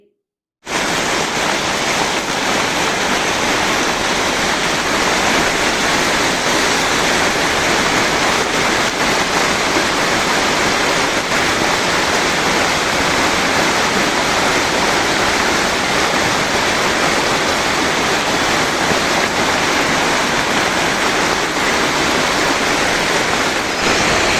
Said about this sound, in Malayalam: ചെറിയൊരു മഴ പെയ്തപ്പോൾ തന്നെ കടകളിൽ വെള്ളം കയറി